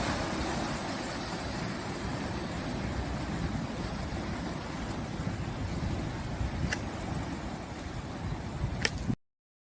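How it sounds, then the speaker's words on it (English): Big, noisy ocean waves at the bay quay of São Martinho do Porto, Portugal, make a continuous heavy roar and wash for nearly ten seconds. Two faint sharp ticks sound near the end. "The waves were big and noisy."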